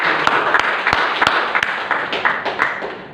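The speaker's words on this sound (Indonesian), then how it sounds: "Ya, oke, berikan aplaus." Audience applause at a teachers' workshop on positive discipline, a dense wash of clapping lasting a few seconds, steady and fairly loud with scattered sharper individual claps standing out.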